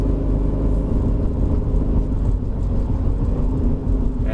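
A 1995 Mercedes-Benz W202 climbs Genting Hill in the wet in third gear, giving a steady, close engine drone and road rumble from inside the car with no talking.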